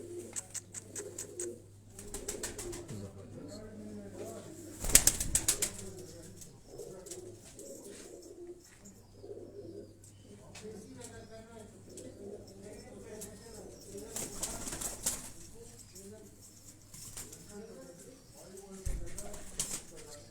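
Soft pigeon coos murmur through the background amid rustling and a few sharp knocks, with some low talk nearby.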